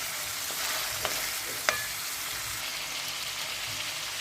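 Lamb cooking in a pan with butter just added, giving a steady, loud sizzle and bubbling while a utensil stirs, with a couple of clear clinks from metal striking the pan.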